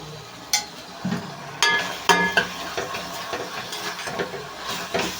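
Chili powder, turmeric and salt frying in a pan, with a steady low sizzle under repeated scraping and stirring clatter from a spoon against the pan, close and moderately loud with no talking.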